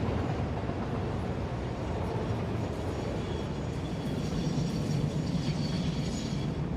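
Trains running in the video game Satisfactory, a steady low rumbling roll of rail cars on track, continuous and fairly close, slightly louder toward the end with a faint clatter.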